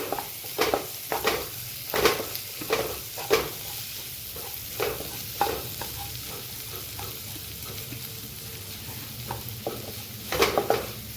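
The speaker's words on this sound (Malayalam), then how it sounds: "ഇതും കൂടി ഇതിലേക്ക് ഒന്ന് വഴറ്റ ഒരു ചെറിയ സബോള മതി" Finely chopped onion sautés in a pan for pumpkin soup, with a steady sizzle broken by repeated scraping strokes of a spoon stirring in an irregular rhythm, close up with no talk.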